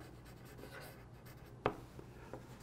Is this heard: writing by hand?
yes